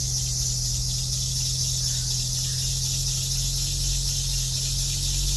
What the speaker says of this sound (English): That's just my belt squeal.